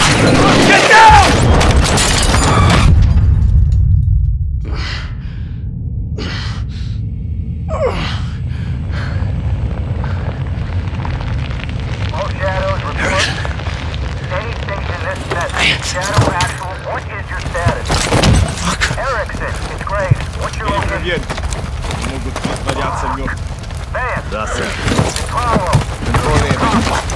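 Loud gunfire and booming explosions from a Modern Warfare 2 battle against Russian PMCs, starting with a heavy blast, then steady rattling shots, sharp cracks and rumbling impacts, with voices talking over the chaos.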